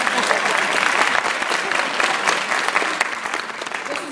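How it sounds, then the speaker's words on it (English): Graduating class at a 2014 graduation ceremony applauding themselves, a dense, steady wash of many hands clapping close and loud throughout, with faint crowd murmur mixed in. "Y'all can clap for yourselves."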